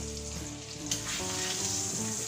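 Garlic cloves still in their skins fry in a pan beside a rack of lamb, giving a steady close sizzle with a sharper burst of crackle partway through and faint tonal hum underneath.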